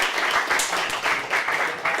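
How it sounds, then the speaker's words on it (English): A room of attendees at an annual general meeting applauds steadily, a dense wash of many hands clapping at close to mid distance, holding at an even level throughout without a break. "Let's give her a round of applause."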